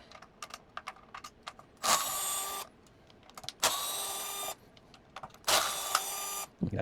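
Telecaster bridge bolts being unscrewed by hand with a screwdriver: three long, steady whirring bursts of about a second each, close and fairly loud, separated by quieter small clicks and taps of handling.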